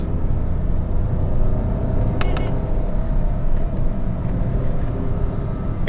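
A Renault Triber AMT engine drones steadily with a low rumble, heard from inside as it accelerates, with slight automatic gearshift lag and a brief rattle partway through.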